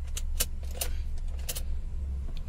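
Car keys jangle near a Ford Figo ignition in a repair shop, several bright metallic clinks in short bursts over a steady low hum, with no talking.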